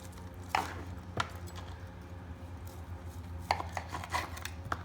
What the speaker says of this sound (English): we're slicing these babies up